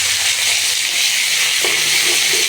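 Pumpkin, red potato and beans frying in a pan, a steady close broadband sizzle with faint stirring scrapes, no talking.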